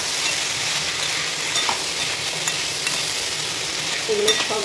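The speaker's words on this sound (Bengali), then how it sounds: "এগুলো সব ভালোভাবে একটু ভেজে নেব।" Ingredients being stirred and fried in a kadai, a steady close sizzle with scraping stir strokes running throughout.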